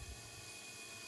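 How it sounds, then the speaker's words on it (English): A drone hovers steadily in the air during a flight demo, giving a continuous, even whirring buzz of propellers with no breaks, fairly faint and without speech. "you can see the drone is pretty stable up in the air and"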